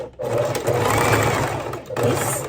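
Sewing machine stitching up close, a continuous motor whir that briefly dips and resumes as it backstitches over the seam.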